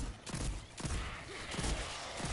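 Hand cannon fire in Destiny 2 cracks out in several sharp, loud reports over dense, continuous game noise, with no voice present.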